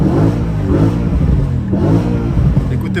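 BMW M3 E92 with DKG gearbox revving hard, its exhaust growling loud and close in sustained surges with a brief crackle near the end.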